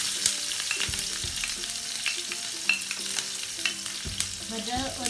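Sliced onion and fennel seeds fry in a pan for a Sri Lankan cabbage fry, a loud continuous sizzle broken by repeated scraping stir strokes of a spoon against the pan, close and without talk.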